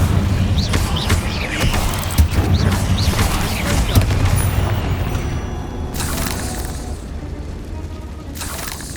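Incendio fire spell cast in Hogwarts Legacy, a loud burst of booming, crackling blasts packed into several seconds of dense game combat noise, with a voice speaking briefly over it.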